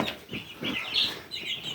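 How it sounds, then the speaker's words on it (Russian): A brooding hen clucks softly among her young chicks, a few close, quiet low clucks spaced through the moment with faint high peeping above them. "Вот эта квочка тут уже Третье или четвертое поколение."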